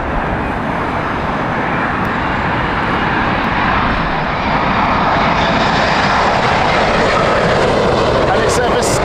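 Vistara airliner landing on runway 27 left at Heathrow in crosswinds, a loud, sustained jet roar that swells slightly as it passes, with a voice talking underneath.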